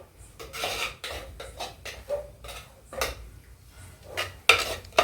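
A spoon stirs quail gravy in a pan, scraping and clinking against the metal in a run of irregular strokes with short pauses between them, close and fairly quiet, with no talking.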